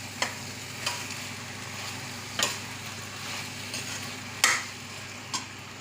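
Mushrooms sautéing in a pan for South Indian mushroom biryani, with a soft steady sizzle and a few sharp spoon scrapes and taps as the mixture is stirred.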